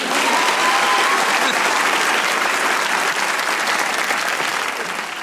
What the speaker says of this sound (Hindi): जिनको लगता है मुझसे खराब कोई नहीं बना सकता वो तालियां बजाएं।